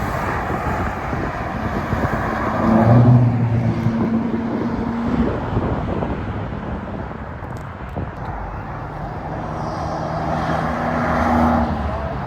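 Traffic on a busy Normandy motorway, a broad steady roar of engines and tyres with heavier vehicles swelling past, one loud passing rumble building mid-way and another near the end, heard from close by the road.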